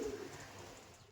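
A pigeon of the Andhra breed coos in a loft, a single low soft call right at the start over a steady background hiss, nearby and moderately loud, then fading into quiet ambience.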